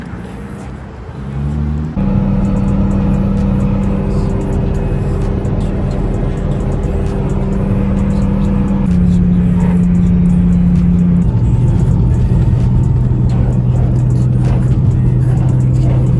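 Idling engine of a Lexus IS300 warming up, a steady low rumble that jumps louder after a quiet start and then holds a constant hum, stepping down slightly in pitch twice as the idle settles, with no talking.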